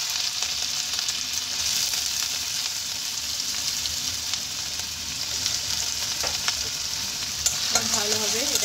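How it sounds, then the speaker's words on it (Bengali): Chopped onion frying in hot white oil in a kadai gives a steady close sizzle, with scraping stirs and a louder burst of crackling near the end, no voices. "সাদা তেলটা গরম হলে তাতে কুচানো পেঁয়াজ দিয়ে দেবো"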